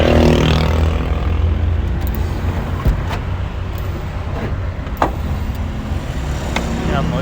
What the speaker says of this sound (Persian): باید روشن کنم ماشینو